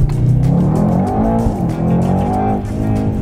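A 2018 Mercedes E63S AMG with a twin-turbo V8 accelerates hard, its engine roaring loudly and rising in pitch with a raspy edge close by.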